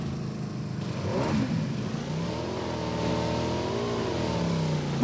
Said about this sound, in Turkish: Ön kaldırarak gidiyor. Motora bak.